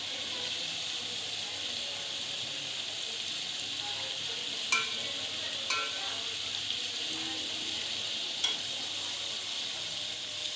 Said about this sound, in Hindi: मैं यखनी डाल कर ही गोश्त को भून रही हूँ थोड़ा थोड़ा